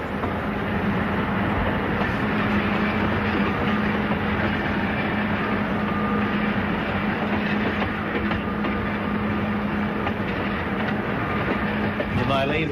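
The Ghan passenger train rolls along the rails in 1980, with a loud, steady rumble and rhythmic wheel clatter filling the whole stretch from inside the carriage.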